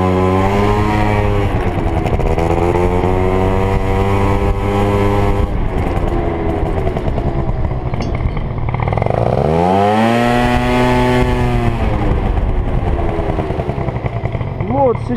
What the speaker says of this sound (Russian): сейчас я даю газу, поддергиваю скутер и начинаю ехать на заднем колесе.